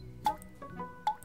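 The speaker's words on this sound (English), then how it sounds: "that dripping sound?" A tap left running drips indoors in a cartoon: two or three distinct, clear plinking drops spaced apart, close and fairly quiet, with no talking.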